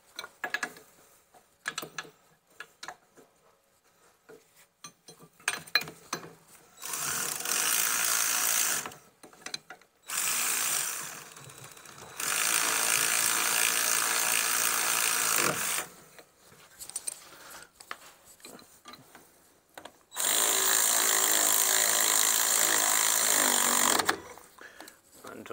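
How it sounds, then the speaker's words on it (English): A 19 mm ratchet spanner clicks steadily in several long bursts on the rear brake bolts of a Ford Transit, close up, with short pauses and handling clatter between runs. "19 mil spanner."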